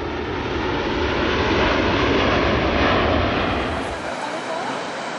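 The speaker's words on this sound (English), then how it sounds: "It's a smooth takeoff for the maiden flight from Singapore to Sydney." An Airbus A380 airliner takes off on its maiden flight from Singapore to Sydney, a loud, sustained engine roar that swells and then slowly eases as the aircraft climbs away.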